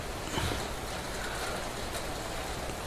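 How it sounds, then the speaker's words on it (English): Steady, dense rain patter fills the scene in the video game Quarantine Zone: The Last Check, a constant even hiss with no talking over it. "It sounds like it's raining, but there's no rain."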